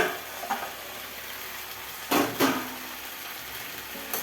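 Shukto vegetables get stirred in a pan: a quiet background hiss is broken by a few short scraping strokes, two of them close together near the middle and another lighter one toward the end.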